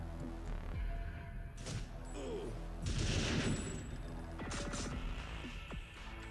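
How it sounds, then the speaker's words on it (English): Gunfire in the shooter game TimeSplitters, with several shots and bursts crackling over a steady low game hum, loudest in a dense volley near the middle of the stretch. "I don't even know where the shots are coming from"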